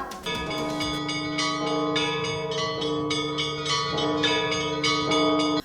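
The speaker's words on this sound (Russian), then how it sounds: "как весело и громко звенят колокола" Church bells ring continuously at Easter in a loud, layered peal, their overlapping tones sustaining and restriking every second or so.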